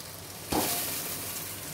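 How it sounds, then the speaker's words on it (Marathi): Poha tipped into hot oil with green chillies and curry leaves for chivda, a sudden burst of sizzling that stays loud and steady, close by. "आता मिरच्या आणि कढीपत्ता पण झालेला आहे, तर ह्याच्यात पोहे मिक्स करायचे."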